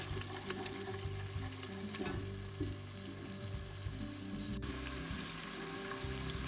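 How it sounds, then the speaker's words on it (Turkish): Onions, garlic and red kapia peppers sauté in a pan for green beans in olive oil, a dense, close crackling sizzle with stirring scrapes running throughout. "Kapya biberleri de artık koyabiliriz. 2-3 dakika soğan ve sarımsaklarımızı soteledik."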